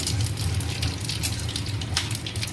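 Whole cardamom, cinnamon, cloves, cumin, black pepper and a dried red chilli tempering in hot oil, a dense continuous crackling sizzle with scattered sharper pops, close and steady, without speech.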